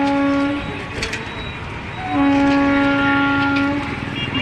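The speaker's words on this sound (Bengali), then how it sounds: "ট্রেন আসছে দেখুন, বর্ধমানের ট্রেন।" A train near Bardhaman, West Bengal rumbles past close by, with long sustained horn blasts in two bursts over the rolling rail noise.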